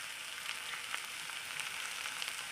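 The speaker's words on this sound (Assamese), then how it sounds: "এইখিনি ভালদৰে ভাজি লৈছোঁ" Madhuhulong and magur fish frying in a pan for an Assamese recipe: a faint, steady sizzle of hot oil with small crackling pops scattered throughout, no talking.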